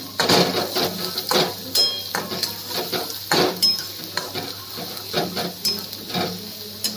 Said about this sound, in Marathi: ते आता परतून घेतात बा